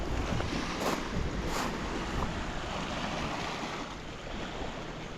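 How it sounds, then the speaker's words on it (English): Surf at Borik Beach in Zadar, Croatia, a steady broadband wash of waves rolling in, with a couple of brighter splashes early on and wind buffeting the microphone throughout; no voices. "So this little gem is Borik Beach."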